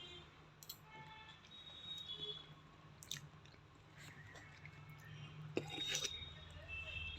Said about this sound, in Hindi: मैं अपने यहाँ का मिक्स वेज पास्ता खा रही हूँ।